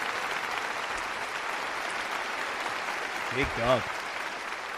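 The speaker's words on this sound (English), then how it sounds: "I love the applause." Steady applause welcoming a podcast guest to the studio, a dense even wash of clapping throughout, with a brief spoken remark near the end.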